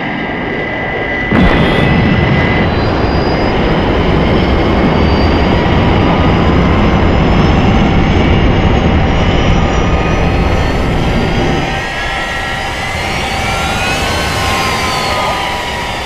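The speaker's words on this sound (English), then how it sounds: "Thunderbird 2 has touched down at London" Thunderbird 2 aircraft descends and touches down at London, a loud, steady roaring jet engine rumble filling the scene, with a sharp onset and a whining tone that shifts near the end as it lands.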